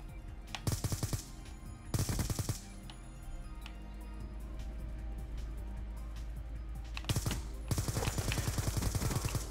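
Bursts of automatic gunfire from the Black Ops 2 video game on the Yemen map, rapid rattling volleys near the start, around two seconds, and again toward the end, over a steady background of game ambience.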